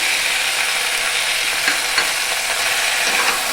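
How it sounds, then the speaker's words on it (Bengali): Vegetables sauté with a mustard and poppy seed paste in a loud, steady sizzle, with occasional faint stirring clicks from a utensil in the pan. "এইটাকে দিয়ে আমি একটু কষতে থাকবো, এইভাবে হালকা করে একটু কষে নেব।"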